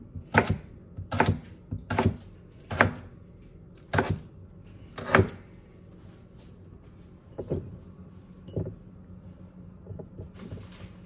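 A fruit core being chopped on a board while making banana cake, a series of sharp knife strikes in an uneven rhythm, loud and close at first, then a few softer chops after a pause, with no voices.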